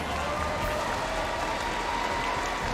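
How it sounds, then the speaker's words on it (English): A large arena crowd at the M5 World Championship esports grand final applauds team Onyx with sustained, dense clapping and some cheering, loud and continuous throughout. "Once again, give Onyx a big round of applause."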